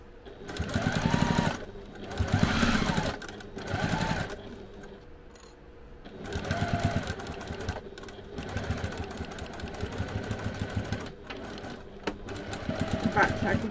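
An industrial sewing machine back tacks webbing onto a fabric case, running in several short bursts of rapid stitching with brief pauses between runs, close and fairly quiet.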